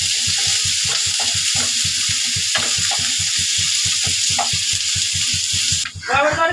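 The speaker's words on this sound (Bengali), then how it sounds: "পেঁয়াজ ভেজে নেব।" Onions fry in a pan alongside garlic and green chillies for an eggplant mash, a continuous close sizzle with rhythmic stirring scrapes and a brief watery splash at the end.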